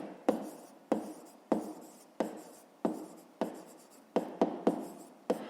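A pen writes on paper while a fifth-grade maths exercise is worked out. About ten crisp, close strokes land in a fairly even rhythm, each scratch fading quickly, with no voice over them.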